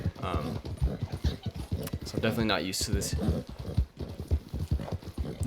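Heavy Shire horse hooves clip-clop steadily in Red Dead Redemption 2, a rhythmic game sound running under continuous talking throughout.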